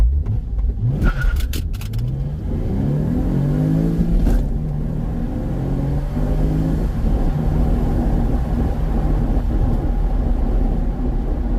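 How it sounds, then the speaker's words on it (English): A completely stock Porsche 911 engine starts and revs up, rising and falling in pitch through several throttle blips before settling into a steady idle rumble, close by. "So that's the sound you get off of the completely bone stock 911"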